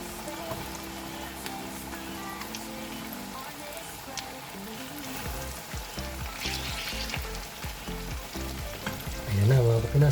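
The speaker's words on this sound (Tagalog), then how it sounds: "mag-start na tayo magprito" Breaded chicken drumsticks sizzle and crackle in boiling cooking oil, a steady frying hiss with occasional stirring and pops, while a voice speaks intermittently over it.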